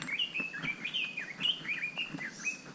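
A Chinese robin sings on a forested Manoa Cliff Trail in Hawaii, a rapid run of bright whistled notes and chirps, fairly close and clear over quiet forest ambience.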